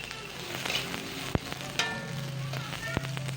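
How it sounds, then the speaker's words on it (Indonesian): Sausage and onion sautéing in a frying pan, a steady soft sizzle with occasional sharp clicks and spatula scrapes, fairly quiet and without talk. "Kita tumis sejenak."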